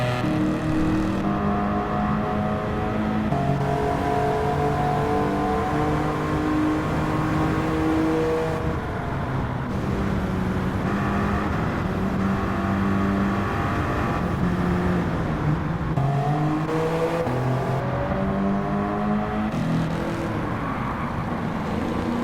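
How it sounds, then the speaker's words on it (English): Race cars in a video game accelerating and revving continuously, with engine tones rising and shifting as cars battle for position, including a 2000 GT, loud and steady throughout with no talk. "With that overtake made, it seems like the only real possible action is Ivan Sodokov is just on top of that 2000 GT."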